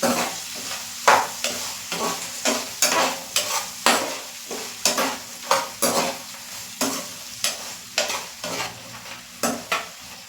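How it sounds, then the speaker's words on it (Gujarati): Sabudana khichdi with potato and a little sugar is stirred in a pan, a spoon scraping in steady, evenly spaced strokes about once a second over a soft background sizzle, close and fairly loud, with no talking. "અહીંયા હું થોડી ખાંડ એડ કરીશ અને બધું બરાબર મિક્સ કરી લઈશ"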